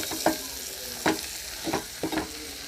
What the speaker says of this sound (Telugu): వట్టి చేపలు నూనెలో గోలాలి.